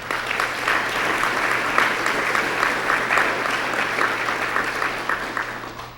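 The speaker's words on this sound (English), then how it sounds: "Let's have a quick round of applause" An audience at a city State of the City address gives a brisk round of applause, many hands clapping steadily at moderate volume for a few seconds without talk.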